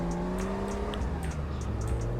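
A car drifts under handbrake in the SA:MP driving game, its steady engine drone shifting pitch with faint tire squeal over a continuous, loud game soundscape.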